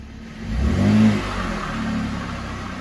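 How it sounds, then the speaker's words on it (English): A car with aftermarket mufflers on its exhaust revs once, the engine note climbing to a loud peak and then easing back to a rumbling idle, close by and without speech. "All right, give it a rev."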